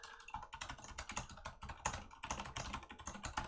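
Rapid, steady typing on a split computer keyboard, with dense close clicking keystrokes and no talking.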